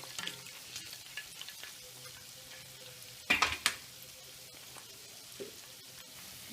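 Gulab jamun fry quietly in ghee over low heat, giving a faint, continuous bubbling with light stirring taps and a short burst of louder clinks partway through, with no speech.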